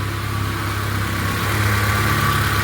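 A repaired car engine with a rebuilt cylinder head runs steadily at idle in a repair shop, a close, even hum with no one speaking.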